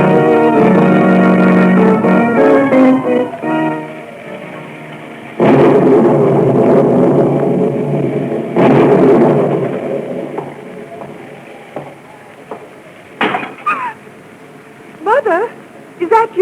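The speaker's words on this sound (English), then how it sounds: "Is the storm frightening you?" Thunderstorm sound effect in a 1938 radio drama of The Shadow: loud rumbling thunder rolls and crashes over steady rain noise, swelling in repeated bursts, with a tonal music sting and faint voices later.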